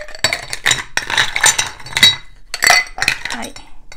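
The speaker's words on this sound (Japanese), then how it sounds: "グラスに氷を入れて" Ice cubes dropped into a cocktail glass for a Tom Collins, a run of close, bright clinks and rattles in several bursts, with a little background noise between.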